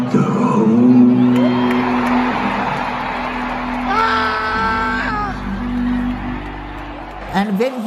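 A wrestling arena crowd roars at Bray Wyatt's return, loud, sustained cheering and screaming with voices rising in sung, chant-like tones midway, swelling and holding across the whole stretch.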